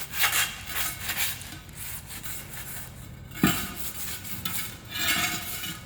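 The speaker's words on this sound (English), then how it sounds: "This one I'm gonna hit it with some probably 80 grit sandpaper" Abrasive rubbing of 80-grit sandpaper on a tire rim, close and steady, in repeated back-and-forth strokes with a brief knock partway through.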